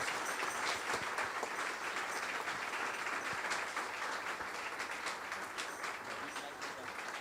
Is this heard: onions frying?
no